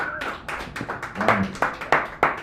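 Audience at an open mic in a San Francisco cafe clapping, a short burst of scattered handclaps and cheers from a small nearby crowd, loud and uneven, fading quickly.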